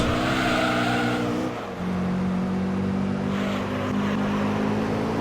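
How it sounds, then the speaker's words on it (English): Race car in Gran Turismo 3 A-Spec sliding through an amateur mid-engine challenge race, its engine revving loudly while tyres squeal in a long sustained screech, with no talking over it. "managing to force my way up into the second position, because my car is sliding around a lot."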